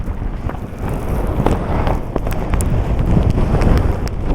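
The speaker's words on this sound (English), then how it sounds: "it's windy and it's higher, because it's raining" Strong wind batters the microphone on rainy Scottish clifftops, a loud, gusty rumble that swells and buffets continuously, with sharp crackling bursts from rain or hail striking nearby.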